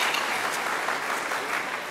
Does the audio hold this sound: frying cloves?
no